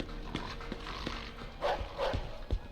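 A dog barks in the Mafia II game world: a few short, moderately loud barks over steady background ambience with clip-clop-like thuds.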